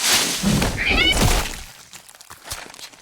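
A cat lets out a drawn-out, wavering meow close by, followed by quieter rustling and faint knocks.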